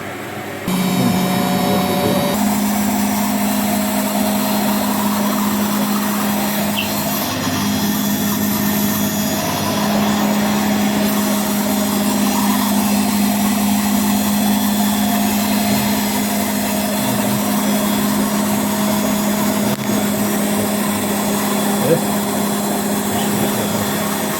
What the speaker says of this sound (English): this new pump is just sounding healthy, smooth, works very well.